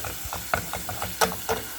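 Chipotle peppers in adobo sauce, still partly frozen, cooking in a pan, with soft, irregular sizzling pops and light stirring scrapes close by.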